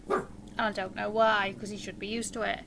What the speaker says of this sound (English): I apologise right now if you can hear the dog, because he's barking at my washing machine.